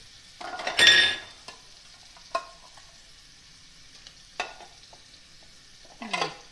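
Mutton liver (kaleji) with dry coriander is fried in a pan, with a faint low sizzle under a few distinct clanks and scrapes of a spoon against the metal, spaced a second or two apart.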